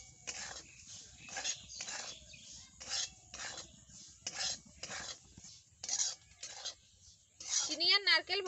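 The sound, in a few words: stirring roasted semolina with grated coconut and sugar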